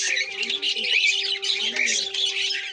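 A flock of Madrasi highflyer pigeons calls steadily, with a dense run of chirping and squawking notes over a steady low hum, close and fairly loud throughout.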